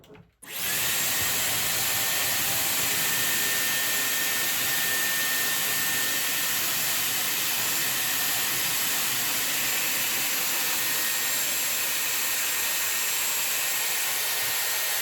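A Dyson Airwrap hair styler blows air steadily while curling hair, a loud continuous whooshing whir that starts abruptly and holds even for the whole stretch, with no talking.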